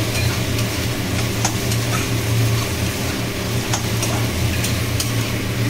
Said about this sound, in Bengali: এবার ডিম কুচিটা এর মধ্যে দিয়ে দিচ্ছি। ডিম কুচিটা দিয়ে একটু নাড়াচাড়া করে নেবেন।